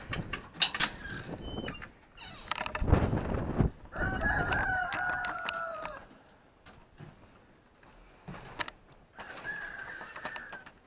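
Backyard chickens clucking near a mobile egg unit in a garden, with a rooster crowing loudly in long drawn-out calls twice and a few short squawks and clucks scattered between them.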